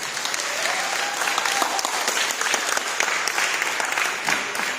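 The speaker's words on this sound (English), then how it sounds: "Keep clapping, people, keep clapping." Applause from an audience fills the room for the host of a health show in Malta, with continuous clapping and a few faint voices underneath.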